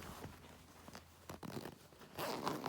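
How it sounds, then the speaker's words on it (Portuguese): A zipper is pulled open on a sewn fabric toiletry bag, giving a few short, close, raspy zip strokes with brief pauses, the last the longest and loudest. "Então, a gente abre o zíper."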